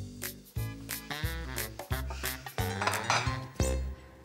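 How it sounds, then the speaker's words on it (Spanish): Ceramic plates and dishes are stacked and put away after a meal, a run of about eight sharp clinks and clatters at an uneven rhythm, close and fairly loud, with no talking. "Primero voy a guardar los platos."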